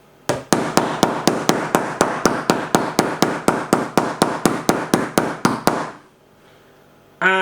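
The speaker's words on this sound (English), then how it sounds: "We're going to start with the flat end of the hammer." A hammer's flat end strikes a Nokia Lumia 530 phone in a fast, even series of about twenty loud blows, then stops abruptly.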